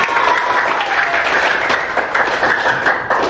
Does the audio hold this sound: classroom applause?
yes